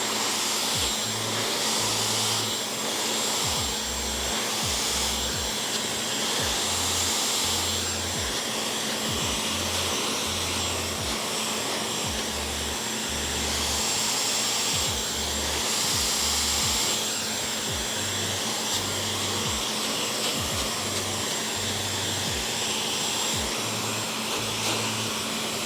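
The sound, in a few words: hair dryer blow-drying hair upward with a brush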